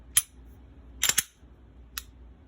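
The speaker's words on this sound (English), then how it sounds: "You hear that sear reset." A Glock pistol gives a few short, sharp mechanical clicks during a function check after cleaning: one click, then a quick double click, then a final fainter click, each crisp and close in a quiet room.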